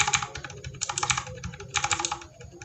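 Typing on a mechanical keyboard fitted with Outemu linear silent switches, a quick run of soft, muted keystrokes in bursts, close and clear with no talking.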